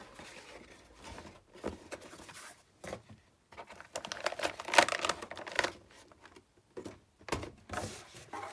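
A graphics card is unboxed, with intermittent crinkling and rustling of packaging and soft plastic and cardboard handling, close and fairly quiet, coming in irregular bursts.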